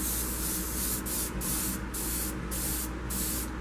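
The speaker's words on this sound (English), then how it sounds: "we have silver airbrush paint, and we're just gonna gently actually make it dirty" Airbrush spraying silver paint, a steady continuous hiss with brief soft pauses as the trigger eases, close and fairly loud throughout.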